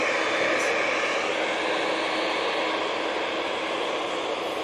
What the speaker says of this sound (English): Lovely touchdown there from the Virgin.